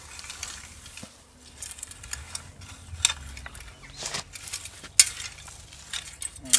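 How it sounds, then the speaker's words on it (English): Rake being drawn across a garden bed to level the soil before planting garlic, shallots and onions, with irregular scraping strokes and small knocks, nearby and moderately loud, and no talking. "So we'll just rake the bed level first."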